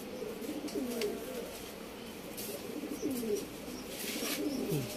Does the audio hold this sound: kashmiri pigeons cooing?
yes